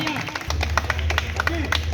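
Scattered hand claps from a small crowd at a party meeting sound over a low steady hum, a few quick sharp claps, with faint talk in the background.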